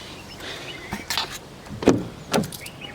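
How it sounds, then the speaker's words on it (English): A key unlocks a custom latch on a truck's passenger-side door, giving a few short metallic clicks and clunks of the mechanism, close by and fairly quiet, with no talking. "And so unlocking it with the custom key."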